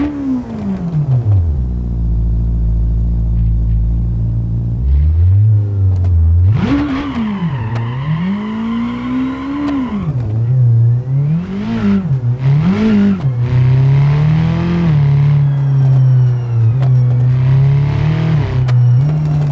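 A loud car engine in the video game BeamNG idles near 2,000 RPM with a rough, droning rumble, then revs up and down several times in short bursts before settling back.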